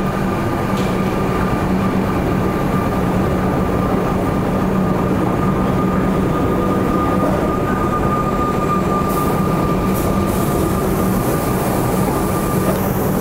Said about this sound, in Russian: Этот поезд отправляется на соответствующую станцию.